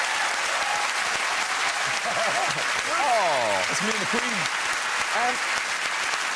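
A television studio audience claps steadily for a guest on a talk show, a dense continuous applause with a voice and laughter-like vocal sounds rising over it midway.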